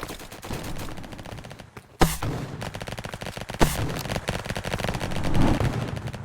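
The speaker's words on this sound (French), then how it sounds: "Là, en fait, c'est un lance-grenade." Grenade launcher fire in the Roblox game Flag Wars, a dense stream of loud gunfire and rapid shots with two sharp blasts standing out, continuous throughout with no talking.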